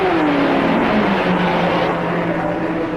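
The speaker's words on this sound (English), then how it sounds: "the cars are coming off the famous Mulsanne straightaway" Race cars passing on the Mulsanne straight at the 1966 Le Mans 24 Hours, a loud, close engine roar with a falling pitch as a car goes by, over a dense rushing background.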